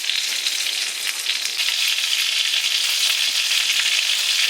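Chicken patties fry steadily in a hot pan, giving a bright, continuous sizzle and crackle that stays close and even throughout with no talking.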